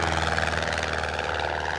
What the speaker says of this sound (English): No, it's going to be a flyby.